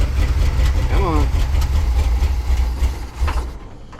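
A 1984 Dodge D100 with a big block V8 idles steadily after carburetor tuning, a loud, close, low rumble that continues evenly under a few spoken words before fading slightly at the end.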